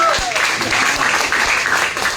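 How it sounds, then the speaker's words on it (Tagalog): A business presentation audience claps in a brief burst, moderately loud with a voice briefly audible through it. "isang malakas na palakpak!"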